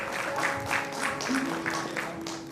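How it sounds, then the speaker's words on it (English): Audience applause at a school function as guests are called to the dais, a dense patter of clapping with a faint hum beneath and some voices mixed in. "please applause"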